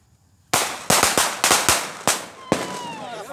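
Firecrackers explode at a traditional Judas effigy festival in Graça, Ceará, with a rapid string of close, loud bangs, each with a short echoing tail, breaking a quiet moment.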